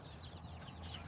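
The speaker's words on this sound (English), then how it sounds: "But these chickens are awesome." Farm chickens clucking softly, a few quiet chirpy calls over a low background hum, faint and brief.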